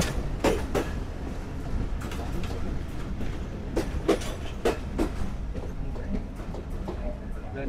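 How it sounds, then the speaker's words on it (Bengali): The Banglabandha Express entering Rajshahi railway station, a steady rumbling roll with repeated clacks and metallic knocks from the wheels and cars, while a voice talks over it. "বিকেল 6টা 35 আমাদের ট্রেন প্রবেশ করছে রাজশাহী রেলওয়ে স্টেশনে"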